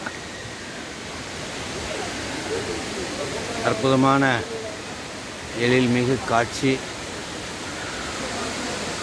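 Waterfall at Suruli falls pouring down in a steady, broad roar of rushing water that runs the whole time, with someone speaking briefly over it in two short bursts.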